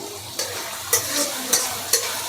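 Vegetable noodles fry in a large wok under a continuous soft hiss, with four sharp stirring scrapes landing at a fairly even pace.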